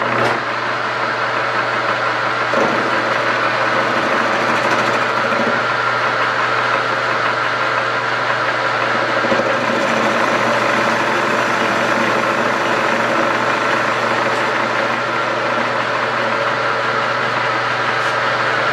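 A machine facing off metal pads meant for the bolts under a welding table, giving a loud, steady mechanical drone with a constant hum that runs unbroken and close throughout.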